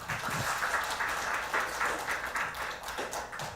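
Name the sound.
audience applause at a forum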